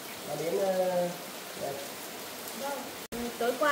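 Heavy rain pouring steadily as a dense, close hiss, with people talking over it throughout.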